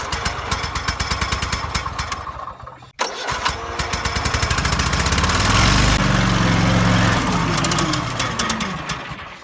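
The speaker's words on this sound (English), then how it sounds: "today I'm going to show you how to fix a stuttering mower." A stuttering lawn mower engine runs with a rapid uneven putter, briefly cutting out then catching again and revving up loud and close before settling.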